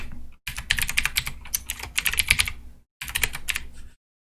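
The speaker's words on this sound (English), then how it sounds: "So I'm going to type something in here." Someone types on a computer keyboard, a quick, close run of clicky keystrokes in bursts with brief pauses, no talking.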